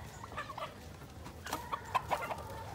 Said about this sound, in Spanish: Son todos los gallos